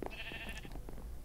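A sheep in the Minecraft video game bleats once in a brief, wavering call, heard close and alone over a steady low background.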